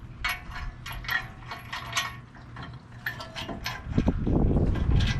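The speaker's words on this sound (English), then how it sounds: "And then I'm going to be putting two nuts on." Lug nuts being threaded and ratcheted onto the hub to hold a new front brake rotor in place on a 1999 Toyota 4Runner, a run of close metallic clicks and clinks that grows into heavier low rattling toward the end.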